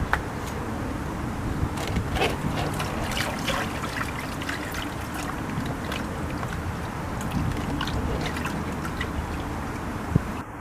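Filthy water being dumped out of a tub, a steady splashing pour and trickle lasting several seconds at close range, with no talking.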